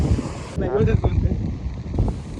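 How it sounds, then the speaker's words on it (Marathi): Strong wind at the seashore in Malvan buffets the microphone with a loud, rushing roar, and a voice briefly cuts through it. "वारा पण कसला सुटला तर ना भारीच"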